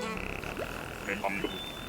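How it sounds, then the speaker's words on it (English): Animated frog croaking and singing in a cozy island-building video game: a short run of chirpy, pitched croaks over a steady game music bed, fairly close and clear. "Come on, frog singing!"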